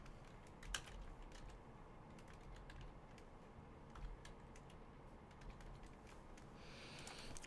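Quiet, steady typing on a computer keyboard while coding in Python, with rapid irregular key clicks and a few sharper strokes, alone with no talk.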